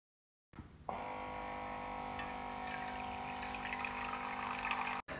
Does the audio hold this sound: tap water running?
yes